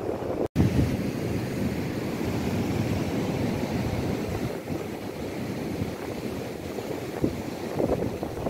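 Ocean surf rolls onto a beach at St. Lucia, KwaZulu-Natal, with a steady broadband wash of waves mixed with gusty wind buffeting the microphone, continuous throughout.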